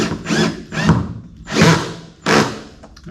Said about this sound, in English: I can set the clutch to release, and then I can gradually tighten it up a little bit to snug the screws up the way I want.